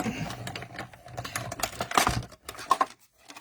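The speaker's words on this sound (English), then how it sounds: "die cutting machine, my mini cut and emboss, and we're going to die cut him out" Mini cut and emboss die cutting machine cutting a butterfly shape, a quiet run of clicking, grinding mechanical patter with a few sharp clacks, heard close up.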